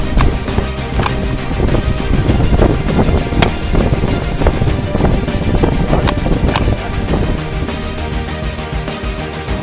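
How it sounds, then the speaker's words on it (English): Steady wind blows outdoors at a hunting rifle range, a loud continuous rushing and buffeting against the microphone throughout, with occasional gusts and low rumble. "I know it's a bit windy out here"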